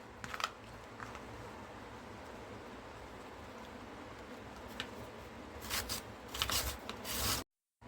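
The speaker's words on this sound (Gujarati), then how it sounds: "શક્કરિયાને આપણે આ રીતના મોટા હોલવાળા ગ્રેટરથી જ ગ્રેટ કરવાના છે" Sweet potato is rubbed against a large-hole grater, giving a soft, steady rasping close by, with a few louder scraping bursts near the end before the sound cuts off abruptly.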